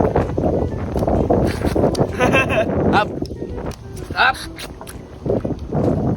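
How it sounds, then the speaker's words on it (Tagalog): Strong wind buffets the microphone with a steady roar, while people talk and eat nearby. "Napakalakas ng hangin."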